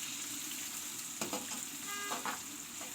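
One medium onion frying in a browned paste in a pan, a close, steady sizzle with a few brief stirring scrapes and clinks partway through, no voices.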